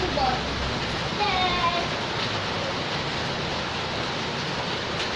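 Steady rain pours down outdoors as a dense, even hiss filling the whole clip, with children's voices and chatter faintly heard over it.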